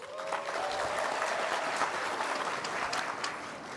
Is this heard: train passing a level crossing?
no